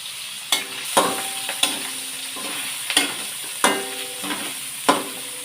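Vegetables for vegetable lumpia — sayote, carrots and beans with annatto coloring — being stir-fried in a pan, with repeated sharp spatula scrapes and clanks roughly every second over a steady background sizzle.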